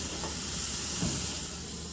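Tri tip steak sears fat side down on a barbecue grill heated to 500 degrees, giving a continuous loud, bright sizzling hiss up close with no talking.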